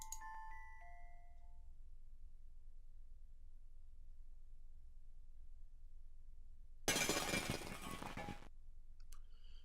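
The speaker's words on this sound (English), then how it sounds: "The next morning I was startled awake by an awful crashing sound." A loud crash of breaking, shattering glass in the True Remembrance video game, a burst of about two seconds that follows a few faint chime-like tones and near silence.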